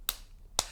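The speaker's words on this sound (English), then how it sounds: "look at all those claps on there" Two sharp, isolated hand claps made to sync an edit, spaced about half a second apart, close and crisp with near silence between them.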